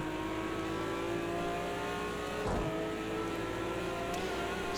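Race car engine in Project CARS 2 at Monza, holding a steady high drone at full throttle down the straight, with a brief swell partway through, loud and continuous.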